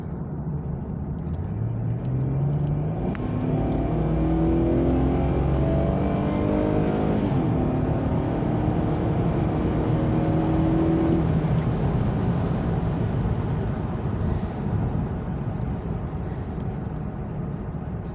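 Camaro V6 driving and cornering tightly, engine note rising and falling through gears from inside the car, a steady mid-loud drone with sweeping pitch changes and tire noise, no talking.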